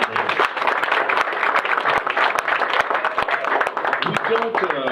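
A Texas crowd gives Piers Morgan a round of applause outdoors, sustained dense clapping with distinct sharp individual claps throughout and some voices mixed in.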